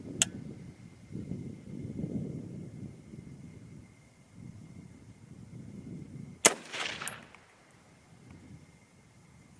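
Two 6.8 SPC II rifle shots fired outdoors, a sharp crack at the start and a louder one later with a brief rolling tail, over steady wind rumble.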